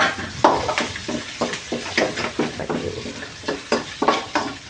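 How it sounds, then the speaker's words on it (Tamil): Handful of curry leaves frying in hot oil, bursts of crackling and spattering close up alongside repeated stirring and scraping of a spoon against the pan, rhythmic and fairly loud, no voices. "அடுத்தது கொஞ்சோண்டு கருவேப்பிலையும் வறுத்து இதிலே போட்டுக்குவோம்."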